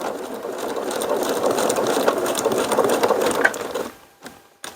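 A sewing machine stitches ribbon edge binding with a steady, close whirring run that stops near the end, followed by a couple of brief mechanical clicks.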